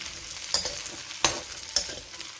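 Garlic and carrots roast in a pan for pickle-making while a large ladle stirs them, giving a soft continuous sizzle broken by three sharp scraping clinks spaced about half a second apart, close and fairly quiet.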